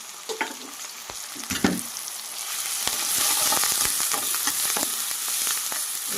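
Chicken curry masala with tomatoes and curry leaves frying in a pan, a steady close sizzle with scattered stirring scrapes and taps, growing louder and denser partway through, with no talking.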